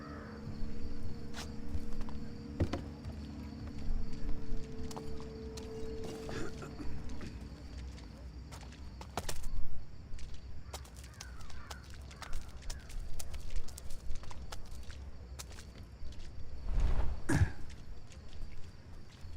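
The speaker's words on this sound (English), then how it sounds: "The sound of horse hooves." Horse hooves clip-clop in the stealth video game Thief, faint rhythmic clopping scattered over a low ambient night drone, with occasional crow-like caws and no talk.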